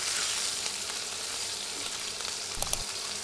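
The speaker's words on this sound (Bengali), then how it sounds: "এভাবে উল্টে পাল্টে মাছের মাথা ভেজে নিতে হবে।" Fish heads frying in hot oil on a stove, a steady close sizzle and crackle throughout, with a few brief clinks near the end and no talking.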